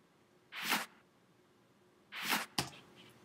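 Two reversed clap drum samples swell up and cut off sharply, the second snapping into a crisp hit. They land like backbeats on the 2 and 4, loud and dry against near silence.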